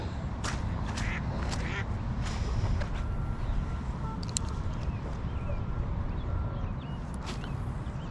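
Geese honk in scattered calls by the water at a rainy bank fishing spot, heard over constant rain and wind noise at moderate distance.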